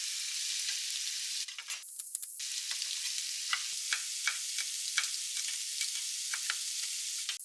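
Thinly cut vegetables fry in a pan for a lunchbox, a bright, steady sizzle up close, broken by scattered clicks and scrapes of stirring.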